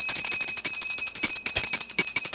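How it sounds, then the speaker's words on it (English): A small ritual bell rings in rapid repeated strikes with bright sustained metallic tones, loud and close, with no talk. "Bell,"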